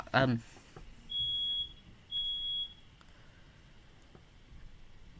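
Two high-pitched electronic beeps sound about a second apart, fairly faint, after a brief burst of noise at the start.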